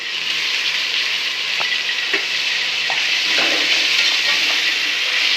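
Mint and coriander leaves sauté in ginger garlic paste, giving a loud, even sizzle close up, with a few light stirring scrapes scattered through it.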